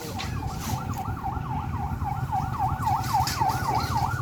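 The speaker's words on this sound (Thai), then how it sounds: "คิดว่ารถของหมอแล้วผมเป็นรถตำรวจนะใช่" A police car siren wails in a steady, rapid up-and-down cycle, loud and close, over a low rumble of traffic or engine noise, with no voices.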